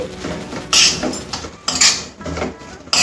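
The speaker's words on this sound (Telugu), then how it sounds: "ధనియా పొడి, అలాగే పసుపు వేసి ఇలా కలుపుకోవాలి" A metal spoon stirs coriander powder and turmeric in a pan, with three bright scraping, clinking bursts separated by short pauses, close up.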